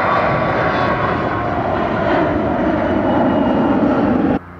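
A United Express Embraer jet roars on takeoff at Austin-Bergstrom airport, a loud, steady, close engine rumble that holds and then cuts off abruptly.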